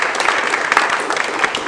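Applause from an audience at a college foundation service-honoring event, a dense patter of many hands clapping at steady moderate loudness for a short burst.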